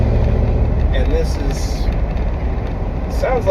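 Box truck engine while driving, a steady low rumbling drone under a voice talking over it.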